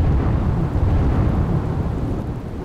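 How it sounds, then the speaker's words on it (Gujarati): Heavy rain pours down over a Gujarat city, with thunder rumbling through a dense, continuous roar of falling water; loud and unbroken, with no voices. "ભરૂચ શહેરમાં વરસ્યો વરસાદ।"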